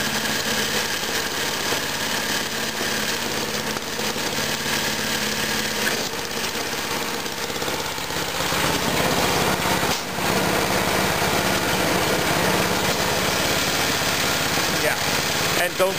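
A snowthrower engine runs at full throttle while plowing through about four inches of snow, a loud, constant, high-pitched buzzing drone that roughens and grows slightly louder partway through.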